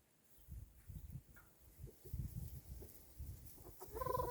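Chickens bathing cluck in low, scattered bursts close by, with a short higher call near the end over a soft outdoor background.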